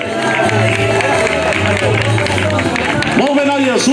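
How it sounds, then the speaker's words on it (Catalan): Spectators applauding along the course of a downhill cart race in Maià de Montcal, a dense continuous roar of clapping and crowd noise with cheering voices mixed in, loud and close. "Aviam si se senten els aplaudiments del públic."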